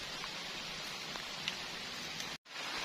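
Rain falls on a tent at night at a solo campsite, a dense continuous hiss of drops that stays steady and close, broken by one very brief cutout.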